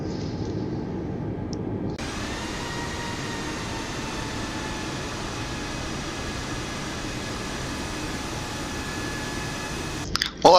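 A steady, even engine drone and cabin rumble from an Alaska Airlines Airbus A320 taxiing to the gate in Microsoft Flight Simulator, with a sudden rise in level after two seconds and a brief clatter at the very end.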